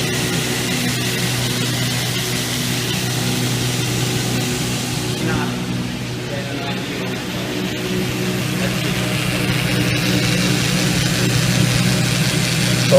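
A deburring and edge-rounding machine processes copper bus bar, giving off a steady close mechanical hum with a faint whirring texture. Some brief lighter scraping sounds over the drone around the middle.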